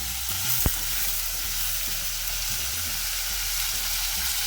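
Chutney ingredients with a piece of gur frying in a hot pan, a loud steady hiss of sizzling with a sharp clink near the start and small stirring scrapes.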